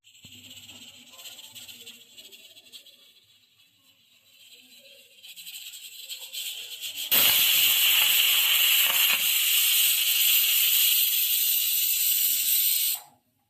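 A loud, steady high-pitched steam whistle from a pressure cooker bursts in after quieter kitchen noise, holds for several seconds, then cuts off abruptly.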